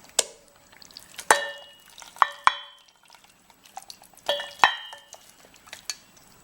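Mutton being mixed by hand into a marinade for Jaora-style mutton korma, with scattered wet squelches and sharp clinks against a metal bowl, several louder knocks in bursts, close and fairly quiet, with no talking.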